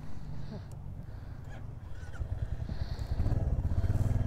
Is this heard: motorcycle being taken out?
yes